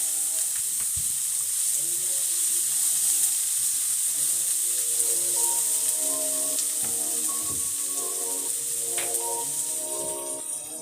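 Onions sizzle steadily in hot oil for mutton biryani, a continuous close frying hiss with faint scraping stirs underneath and muffled talk in the background.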